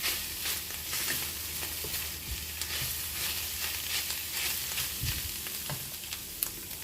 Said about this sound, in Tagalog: Stir fry lang natin siya.